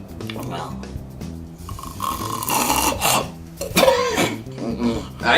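A person imitates a snorer choking on his own snores, with rough rasping inhales, sputtering catches and throaty gurgles in an uneven, close and fairly loud sequence.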